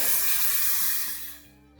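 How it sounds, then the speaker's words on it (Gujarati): Half a glass of water splashes into a pan of cluster beans in one short, bright pour that fades out within two seconds, with no voices. "અડધો ગ્લાસ પાણી એડ કરીએ છે"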